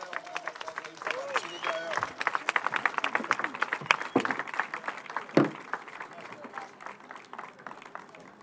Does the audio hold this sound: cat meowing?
no